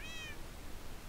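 A Minecraft cat gives one short, high, rising meow over a steady bed of game background noise, with no talk.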